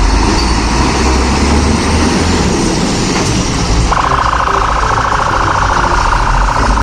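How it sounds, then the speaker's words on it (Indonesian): A toy fire engine from a sand-filled toy truck plays a loud, continuous engine rumble, and partway through a steady electronic siren-like tone joins in and holds to the end. "Widih, widih, mobil pemadam kebakaran."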